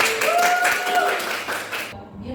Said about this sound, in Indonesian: Kalian semuanya hebat, tepuk tangan dulu.